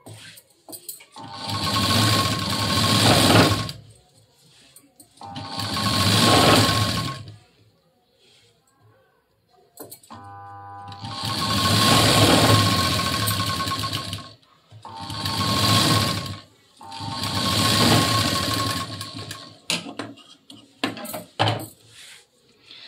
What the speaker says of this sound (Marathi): इथे एक मी काटाला एकदम कडेला अशी शिलाई द्यायची पहा